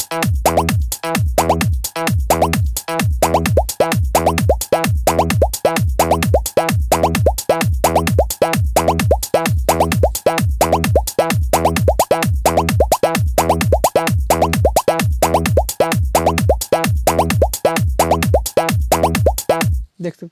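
Water drop sound effects from a sound pack: a steady, rapid series of loud, close plopping drips repeating evenly for about twenty seconds, with no talk.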